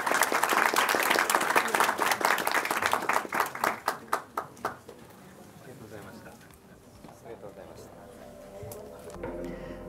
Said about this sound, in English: can I have a round of applause for our speakers